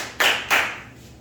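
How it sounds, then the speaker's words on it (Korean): Students in a classroom clap in unison, two sharp, loud claps spaced about a quarter second apart, then a short ringing decay with no voices. "자, 다시 박수 3번 시작!"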